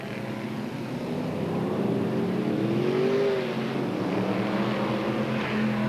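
Several Brisca F1 stock cars roll slowly away at a race start, engines droning and rising together in a steady, fairly loud roar with no voices over it.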